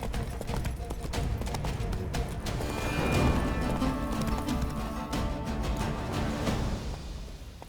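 A horse galloping in the Witcher 3 video game, rapid rhythmic clip-clop hoofbeats running continuously and loud at close range, with a brief neigh or snort mixed in.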